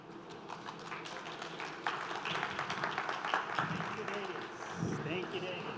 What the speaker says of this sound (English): give a big round of applause to my good friend and autonomous vehicles enthusiast, Silver Kalve.